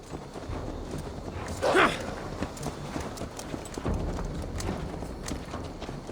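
Horse hooves clip-clop softly at a steady walking pace in Assassin's Creed Valhalla, with a brief louder burst early on and no voices.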